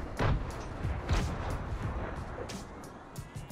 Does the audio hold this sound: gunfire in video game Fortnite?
yes